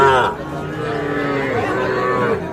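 A young native-breed heifer calf lets out a long, drawn-out moo, loud and close, with a faint murmur of a crowd behind it at a cattle market.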